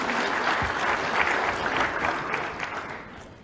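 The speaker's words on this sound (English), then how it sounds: "Round of applause for him," Steady applause fills a stage event at a Zambian political gathering, following a musical performance; dense, continuous clapping from a sizable audience, moderately near, holding evenly throughout without speech.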